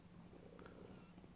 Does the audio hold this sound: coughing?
no